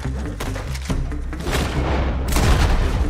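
Rifle gunfire in Red Dead Redemption 2, several loud booming shots in quick succession, close and heavy with a rumbling tail, no talking.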